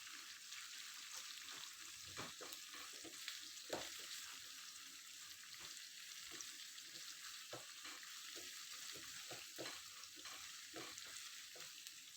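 Steady sizzling of onion, ginger, chili and curry leaves frying with seeds in a hot pan, with occasional stirring scrapes and crackles, close and continuous.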